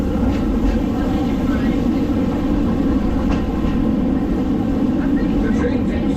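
The mine train on the Big Thunder Mountain roller coaster at Magic Kingdom, Walt Disney World, Orlando, rumbles and rattles along the track in a dense, loud, continuous roar with faint clacking, close by.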